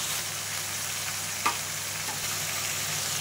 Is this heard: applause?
no